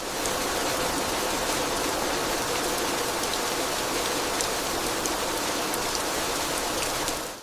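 Heavy rain pours down steadily, a dense, loud hiss of drops hitting surfaces that runs unbroken from start to finish with no voices.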